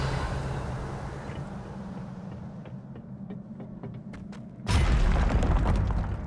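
A Revelio spell is cast in the video game Hogwarts Legacy: a series of faint, high twinkling pings leads into a sudden loud whooshing rumble that holds to the end over a low ambient drone.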